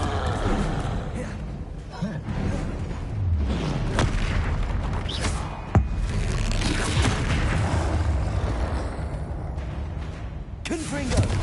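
In the Hogwarts Legacy game, repeated Confringo spell blasts boom and rumble with heavy low-end bursts amid busy combat noise, loud and close, with crackling debris and effects layered throughout.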